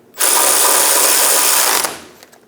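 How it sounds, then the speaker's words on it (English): A power ratchet or impact tool drives an idler arm nut with a 21mm socket on a Chevrolet Express 2500 van, one steady whirring burst of about a second and a half, close and loud, ending abruptly. "Snug the nut down using a 21mm socket."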